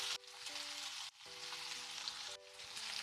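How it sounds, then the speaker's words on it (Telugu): Onion, capsicum and green chillies fry in a pan with a steady broadband sizzle, continuous and close, with two brief dips as something is added or stirred, while faint music plays beneath. "ఉల్లిపాయ, క్యాప్సికం, పచ్చిమిర్చి వేసాను అనమాట."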